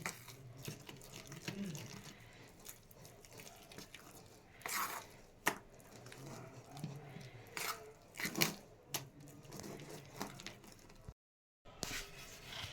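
Idli batter made from ground rice and lentils is mixed with salt, giving soft wet squelching and stirring sounds, with occasional sharper knocks against the bowl and quiet stretches between them.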